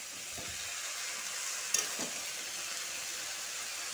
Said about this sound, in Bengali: এখন পাতাকপিটা সিদ্ধ করে রেখে এটা ঢেলে দিব।